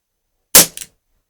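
A single sharp shot from an Umarex UX Tornado CO2 revolver firing lead pellets cracks out of silence, followed by a quick mechanical clack, then quiet.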